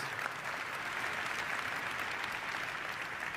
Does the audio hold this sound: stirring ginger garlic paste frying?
no